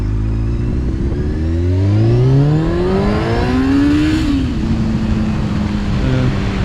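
A 2006 Honda CBR600F sport bike engine revs up in a rising whine, peaks, then drops back to a steady, loud, close drone.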